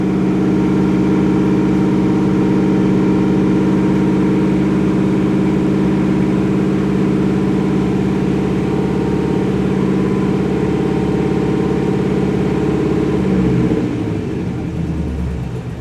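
A 1947 Ford engine runs at a loud, steady, high idle with a deep constant rumble for most of the time, then sputters and drops off near the end.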